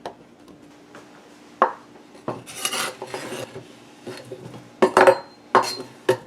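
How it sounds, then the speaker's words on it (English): Scattered clinks and clatters of chopped pieces dropping into a metal cholent pot, irregular and close, with some scraping and rustling between the hits. "throwing them right in the Cholunt pot"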